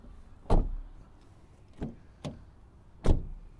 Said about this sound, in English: Slightly better closing sound on the front.